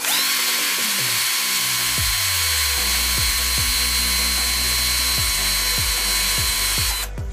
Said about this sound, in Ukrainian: Тест на швидкість закручення Bosch перша швидкість.